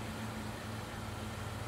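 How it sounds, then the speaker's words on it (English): A steady, low bus engine hum in a video game drones on evenly throughout, muffled and fairly quiet, with no voices. "The sound of an engine brought me back to reality."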